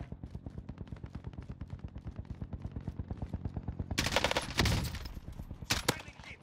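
M4A1 rifle fire in Warzone, rapid sustained automatic bursts of sharp, evenly spaced shots, with a louder burst of distant explosive gunfire from other players layered in midway.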